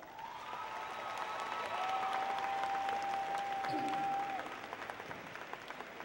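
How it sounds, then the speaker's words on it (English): A large commencement audience at the University of Oklahoma at Tulsa gives a long, sustained round of applause for graduates' families and teachers, a dense steady roar of clapping with a thin high whistle-like tone running through its middle. "let's give your friends, your family, your teachers, and your mentors a hearty round of applause"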